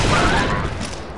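Blaster fire in Star Wars Republic Commando rattles out as a loud, dense burst of overlapping energy shots, filling the short moment without pause.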